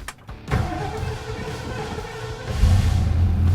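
A Ford Mustang with a fuel leak cranks and catches, then settles into a steady low rumble that grows slightly louder toward the end. No voices.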